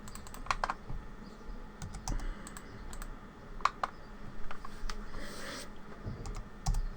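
Computer keyboard typing while working on an AutoCAD mosque floor plan: bursts of quick key clicks with a few sharper taps, fairly close and steady over low background hum, with no talking.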